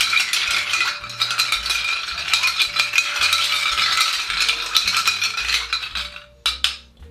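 A spoon stirs a Disaronno White Russian in a glass, with continuous close metallic clinking and rattling against the sides in quick irregular strokes, a few sharper taps near the end.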